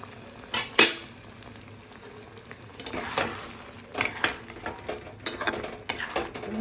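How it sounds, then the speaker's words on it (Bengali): Paneer pieces dropped into a sizzling spiced masala for paneer dahi makhani, with a steady frying hiss and intermittent scrapes and clinks of a spoon stirring in the pan, close and moderately loud. "দেখুন এখন সেই কষানোর মধ্যে দিয়ে দিচ্ছি পনিরগুলো"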